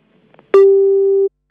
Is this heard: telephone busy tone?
yes